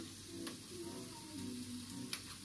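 Ground turmeric hitting a hot pan of curry, giving a steady soft sizzle and frying crackle with a couple of faint ticks, no talking.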